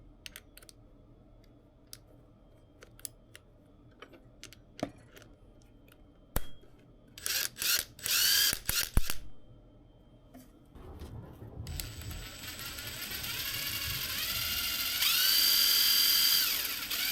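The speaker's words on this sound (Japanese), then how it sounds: "タイヤを削るときは整備用のソケットでサイズの合うものを探して回しています。" A scale model Ferrari 312T tyre is turned on a socket and shaved. Scattered sharp clicks and taps come first, then a continuous whirring scrape builds and grows louder. No voices are heard.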